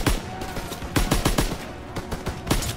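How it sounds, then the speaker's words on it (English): Rapid bursts of gunfire in the WW2 campaign of Call of Duty, loud and close, volleys of shots in quick irregular rhythm with brief gaps, no talk over them. "Come on, they need cover fire!"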